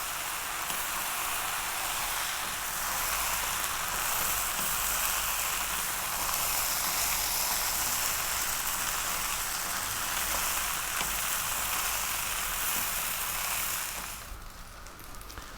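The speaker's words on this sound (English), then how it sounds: "That's your rice frying." Steady, dense sizzling and crackling of rice frying in a pan for vegetable fried rice, continuous and close, easing off slightly near the end.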